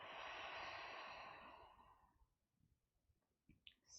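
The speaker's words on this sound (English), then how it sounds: "Deep breath out" One deep exhale during a yoga breathing exercise, a long, breathy rush of air that fades over about two seconds, followed by quiet room sound and a few faint clicks.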